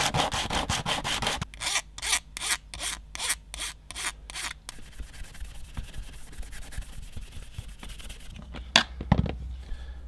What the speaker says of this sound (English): just deburr everything, get it all nice and smooth